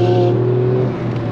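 A Ferrari Scuderia fitted with a Capristo exhaust revs loudly nearby, a strong steady engine note that holds, then eases off as it fades slightly, with no talk over it.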